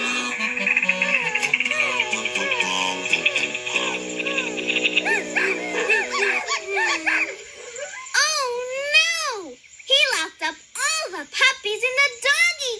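Cartoon puppies yelp and bark in high, sliding whimpers alongside bright background music, the music dropping out midway while the rapid puppy cries continue in short bursts.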